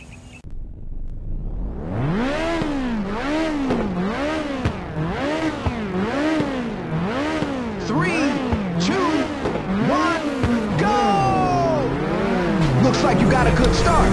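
Race cars in the PSP game Ridge Racer launching from the start, engines revving in rhythmic, rising-and-falling waves that build into loud acceleration, with tire squeal near the end.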